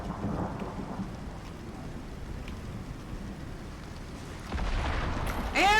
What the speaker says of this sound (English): things are getting struck by lightning